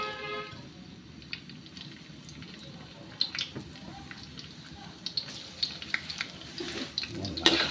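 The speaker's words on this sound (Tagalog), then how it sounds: "Ilagay na natin ang ating garlic." Garlic frying in hot cooking oil makes a close, steady crackling sizzle, broken by sharp pops and spatters that grow busier toward the end.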